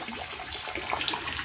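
Chlorinated tap water pouring steadily into a garden fish pond during a partial water change, a continuous mid-level splashing rush with no voices.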